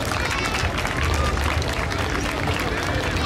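An airshow crowd applauds a pilot flying a Boeing Stearman biplane at the Scottish International Airshow, a loud, steady wash of many hands clapping outdoors that holds evenly throughout.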